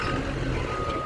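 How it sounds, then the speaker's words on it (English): Reverse alarm on a CAT D5 bulldozer during a pre-trip inspection, a steady tone held for about a second over the loud rumble of the idling diesel engine. "Backup alarm is working properly."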